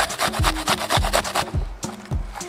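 Onion rubbed against a hand grater while preparing Belarusian potato dumplings, a steady rhythmic rasping of repeated strokes, close and fairly loud, with no talking.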